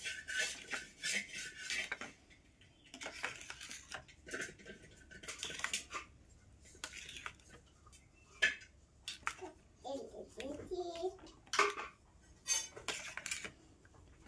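Clinking of a utensil against a bowl as eggs are beaten with a pinch of salt, in quick irregular bursts close by, with short pauses between rounds of whisking.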